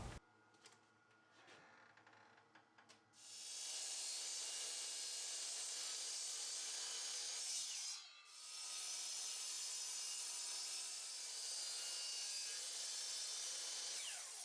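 A miter saw spins up and cuts wooden blocks for chess pieces against a clamped stop, giving a loud sustained whine after a few quiet clicks, dipping briefly midway before roaring again.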